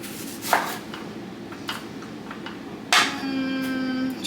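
A knife chops through red onion on a board, giving a few scattered, fairly close cuts with a sharper knock near the end, followed by a steady ringing tone.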